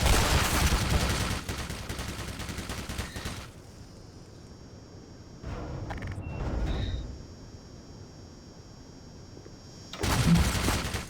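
Automated turrets fire in the Black Mesa video game, loud sustained bursts of gunfire at the start that die away, a quieter stretch with faint electronic tones, and a renewed burst near the end.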